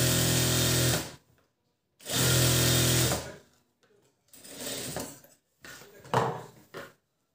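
Electric sewing machine stitching a blouse design made from leftover saree border fabric, running in two loud steady bursts of about a second each, then shorter, quieter stitching runs separated by pauses.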